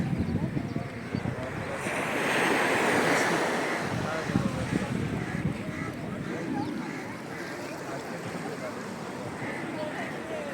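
Sea waves wash onto the shore at a fishing spot as the tide shifts, a continuous roaring surf that swells loudest early on, mixed with wind buffeting the microphone and faint voices.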